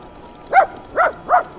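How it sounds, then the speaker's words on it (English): A dog barks three times in a quick, uneven series, close and loud, in the town square area of Goliad, Texas, with no talk over it. "Bark, dog. That's what you do."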